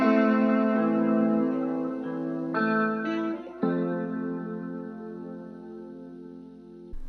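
A sustained, effects-laden electric guitar plays ringing chords that shift a few times, washed in reverb and chorus, slowly decaying toward the end.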